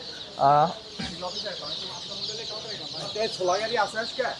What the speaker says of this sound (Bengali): জাপানি কোয়েল পাখির বাচ্চা দেখেন এগুলো